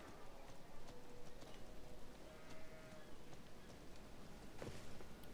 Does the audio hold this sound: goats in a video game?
yes